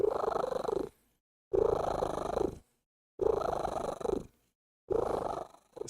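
A cat purrs close by in four steady rhythmic bursts separated by short silent pauses as it breathes in and out.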